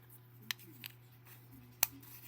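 Two or three sharp, brief snips of scissors cutting through polymer clay, fairly close, spaced apart over a faint steady hum.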